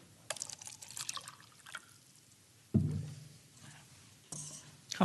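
Water poured for drinking, with light splashes and trickles, a fuller gurgling pour near the middle and a clink at the end, quiet and close.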